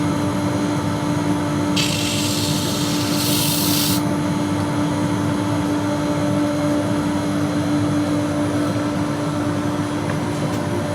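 A wood lathe spins at about 800 rpm while Christmas tree ornaments are turned, giving a steady, even motor hum throughout, with a brief brighter rasp partway through.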